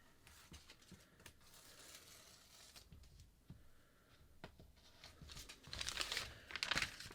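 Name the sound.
scissors cutting paper pattern piece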